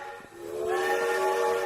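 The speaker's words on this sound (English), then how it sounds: "And for that I will give one train toot." A single steam train whistle toot, a hiss of steam rising into a bright, sustained tonal blast that holds steady and loud to the end.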